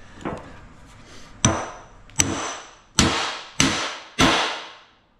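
A hand tool strikes a truck mount part five times in a loose, slowing rhythm, each blow a sharp, close metallic-wooden crack with a short ringing tail, with a fainter tap before the first.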